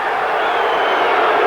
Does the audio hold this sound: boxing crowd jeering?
yes